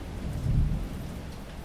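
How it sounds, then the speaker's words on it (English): Steady rain hisses continuously outside a police station in the video game Separated By Nightmares: Where Duty Dies, while a low roll of thunder swells and fades beneath it. "Raining outside"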